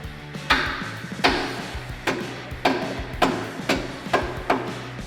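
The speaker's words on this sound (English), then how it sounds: "with a couple of shots from the hammer," Repeated hammer blows seat a rubber bushing into a sway bar bracket on a Jeep Wrangler JK front Currie Antirock kit: about nine sharp, close metallic strikes at an irregular, fairly steady pace, with no talk.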